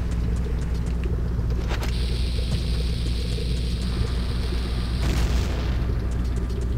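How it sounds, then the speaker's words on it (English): A bomb goes off in the video game The Legend of Zelda: Ocarina of Time. A sharp blast at about two seconds leaves a ringing tone, and a second burst comes about three seconds later, over a constant low game rumble. "I have a feeling I'm supposed to bomb this up."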